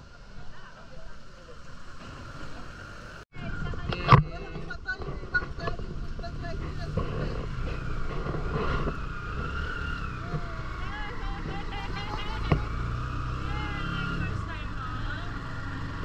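A tricycle ride in El Nido, Palawan, with the motor droning steadily under wind buffeting, a sharp knock or jolt early on, and people chatting during the ride.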